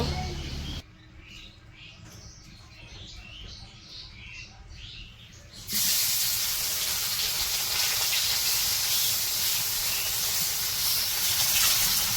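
Fish frying in oil: after quiet kitchen clatter, a loud, steady sizzling hiss suddenly starts and continues close by.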